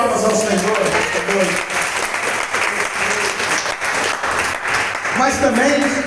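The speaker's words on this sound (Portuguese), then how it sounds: "Dá uma salva de palmas ao Senhor." A church congregation breaks into loud, sustained applause during a celebration service, the clapping dense and steady throughout, with voices and music-like tones mixed in beneath it.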